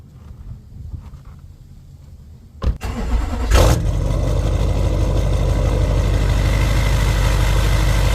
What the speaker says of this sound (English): we're going to go ahead and give this little baby a cold start